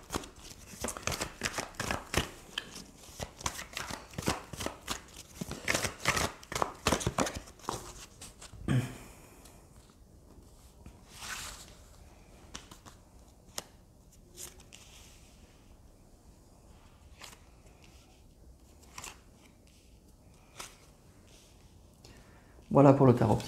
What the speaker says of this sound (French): je vais commencer à battre les cartes devant vous